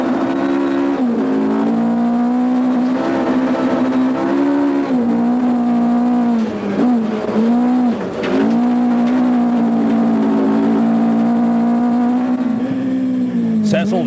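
In-car engine of the Sassel VW Golf rally car on a stage at the 2001 Rally South Africa, a loud steady drone rising and falling with revs and gear changes, close and continuous throughout.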